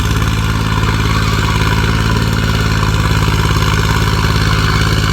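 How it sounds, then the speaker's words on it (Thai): A 28-horsepower engine on a modified agricultural spraying vehicle runs loud and close, a steady rapid chugging idle with mechanical clatter throughout. "ตัวนี้ใช้เครื่องยนต์ 28 แรงครับ 28 แรงม้า"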